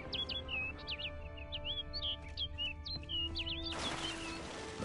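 Bird chirping in The Witcher 3: Blood and Wine, a string of short bright tweets repeating through the scene over a steady game music bed, with a brief burst of rustling noise near the end.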